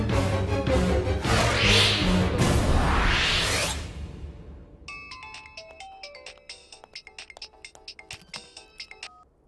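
A loud whoosh sweeps past, then a mobile phone's ringtone for an incoming call plays a bright, repeating electronic melody in a Telugu film scene.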